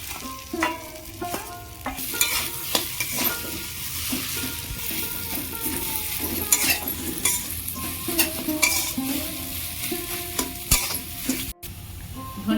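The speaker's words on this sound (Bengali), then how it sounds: "এবার আমি সিদ্ধ করা আলুটা দিয়ে দেবো" Boiled potato stirred into a hot frying pan, a steady sizzle with continuous scraping and stirring strokes close up and fairly loud for the whole stretch, no voices.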